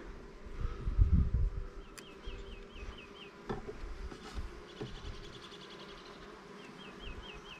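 Honeybees from a queenless hive being split into nucs hum in a steady close buzz from the open hive, with a louder low rustle early on, handling knocks, and birdsong chirping faintly in the background.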